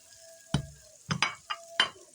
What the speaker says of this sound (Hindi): लहसुन को हमने मोटा मोटा सा कूट लिया है, ये भून लेंगे हम